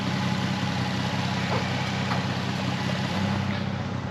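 A car engine idles steadily in the background, a low, even rumble with no talk, heard as an open engine bay is worked on.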